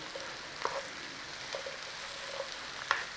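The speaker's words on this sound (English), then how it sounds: "mushrooms. Nice little stir around." Mushrooms frying in bacon fat, butter and olive oil, a faint continuous sizzle with occasional light stirring knocks of a spoon in the pan, close and quiet with no voices.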